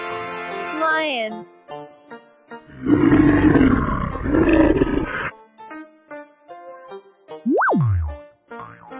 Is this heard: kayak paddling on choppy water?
no